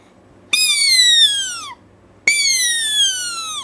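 A voice imitating an eagle's call, two loud drawn-out screeching cries that slide downward in pitch, each about a second long, separated by a brief pause, close up with no other talk.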